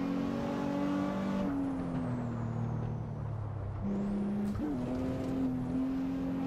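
A Nissan GT-R race car engine in the Assetto Corsa racing game holds a steady tonal drone, its pitch dropping as the revs fall, then jumping back up with a quick gear change, loud and close with no talking.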